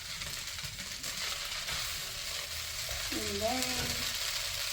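Egg hakka noodles tossed with a fork-like tool in a hot pan at an Indian street food stall, with a steady loud sizzle and frying hiss throughout and a brief spoken phrase near the start.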